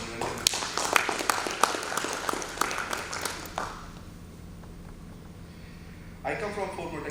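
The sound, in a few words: audience applause for Mr. Niranjan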